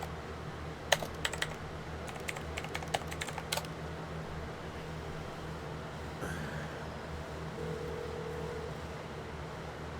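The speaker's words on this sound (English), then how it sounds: "Man, I am not used to typing in a terminal." Someone types on a computer keyboard at a terminal in bursts of quick close key clicks for the first few seconds. A few scattered taps follow over a steady low hum of background noise.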